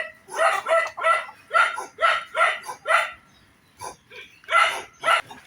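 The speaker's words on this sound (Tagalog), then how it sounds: "Andito tayo sa munting manukan rin ni Toto" Chickens and a rooster in a small backyard coop let out a rapid series of loud, close, rhythmic calls, briefly pausing before another burst of squawks.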